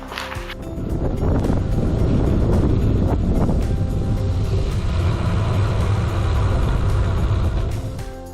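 Steady, loud wind rushing over the microphone while cycling along the coast near Duncannon Fort, a continuous low roar with buffeting gusts lasting throughout, with no talking.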